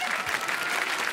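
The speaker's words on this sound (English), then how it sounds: "Give them both another big round of applause." Audience applause at a children's comedy show, a steady dense burst of clapping that fills the whole moment without a break.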